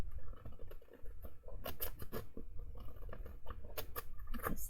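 Tim Holtz scissors cut paper during a craft project, giving a close series of irregular snipping and rustling crunches at low volume with no talk.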